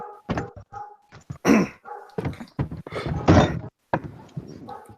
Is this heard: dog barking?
yes